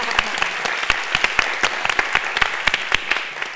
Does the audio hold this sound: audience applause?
yes